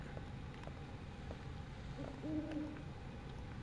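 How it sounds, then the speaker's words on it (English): An owl hoots in the survival horror video game Dino Crisis, a single soft, fairly faint hoot set against a low, steady ambient hum. "There's an owl."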